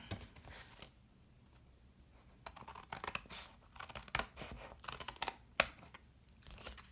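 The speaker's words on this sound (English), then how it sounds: "I'm going to cut out my little square carefully with my scissors" Scissors snipping through paper to cut out a small square for a children's tessellation craft, a series of quiet, close crisp cuts and rustles arriving in irregular bursts, with no talking.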